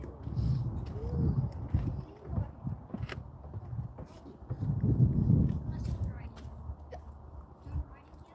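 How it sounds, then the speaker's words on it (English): A horse at a rescue ranch shifts around while being saddled, with scattered hoof thuds and clops on the ground, moderately close, as people talk quietly over it and birds call faintly. "I'm going to come saddle the horse."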